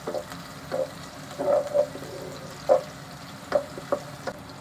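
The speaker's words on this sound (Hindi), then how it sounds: "एक से 2 मिनट तक प्याज को हल्का फ्राई कर लेते हैं।" Onions frying lightly in a pan give a soft sizzle, broken by a few short scrapes and clinks of a spoon stirring, close and quiet.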